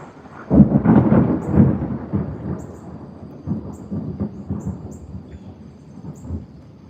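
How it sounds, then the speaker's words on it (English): Loud rolling thunder from a storm with a tornado nearby in forest near Salem, a deep rumble that peaks early and then fades into softer, lingering grumbles, with faint rain beneath. "I'll let the thunder speak before I speak."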